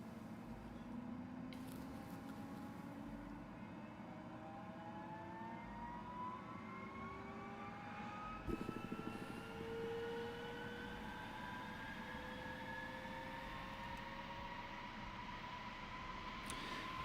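A DC Designs F-14 Tomcat's jet engines start up in Microsoft Flight Simulator, heard from inside the cockpit as a quiet turbine whine that slowly rises in pitch over a low, steady rumble, with a few faint clicks.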